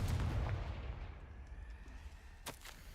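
In the Hogwarts Legacy video game, the Confringo spell goes off as a sharp, booming blast at the start, then decays into a low rumble, with a quick crack near the end.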